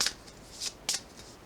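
Tarot cards being shuffled by hand give a few soft, quick riffling bursts, close and fairly quiet, with brief pauses between them.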